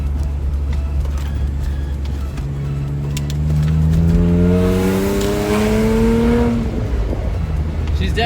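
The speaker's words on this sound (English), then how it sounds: "let's put the car through its paces a little bit, taking some corners." A car driven hard through corners, engine note rising and falling as it accelerates and shifts, loud and close from inside the cabin, with a sustained surge in the middle as it pulls out of a bend.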